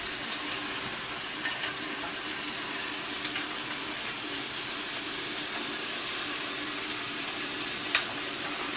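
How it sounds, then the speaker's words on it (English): Three pounds of meat sizzling steadily in a hot pan while being stirred, a constant broad hiss with occasional faint clicks and scrapes, no talking. "Be sure not to get burned when you're doing this, because it will sizzle and do all that good stuff."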